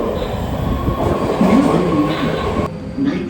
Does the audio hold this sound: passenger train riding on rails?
yes